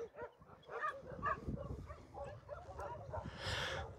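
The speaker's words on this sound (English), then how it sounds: "I hear the puppy crying" An abandoned puppy outside a shelter, faint whimpers and small yips scattered through a quiet, distant scene, with low rustling and a voice speaking nearby.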